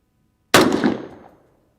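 A single 224 Valkyrie rifle shot fired across a chronograph at a range, one sharp loud crack with a decaying ring lasting about a second, alone without talk.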